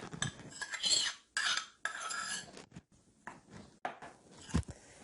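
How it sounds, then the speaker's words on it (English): Melted butter and evaporated milk are stirred into dry ingredients for a peach cobbler, giving close, uneven scraping and clinking of a utensil against a bowl in short bursts with brief pauses. "Then we're going to mix this together until smooth."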